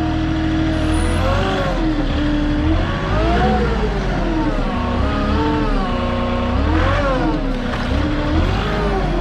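Engine of a lift machine throttles up while lifting, a loud, close, steady diesel roar with rising and falling revs continuing throughout.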